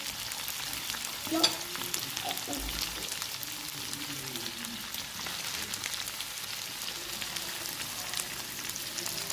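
Onion and red bell pepper frying in a pan while chicken is cooked for a Philadelphia-style dish, giving a steady, quiet sizzle with soft stirring scrapes and a brief clink near the start, no talking.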